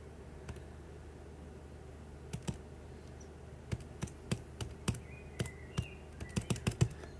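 Keys are tapped on a graphics calculator, with sparse, quiet clicks early on that quicken into a denser run of close, crisp presses toward the end.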